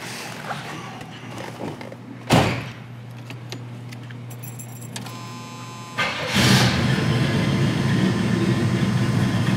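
A 1979 Pontiac Trans Am with a shaker hood runs at idle, a steady low engine rumble with a sharp burst near the start and a fuller, louder exhaust rumble toward the end.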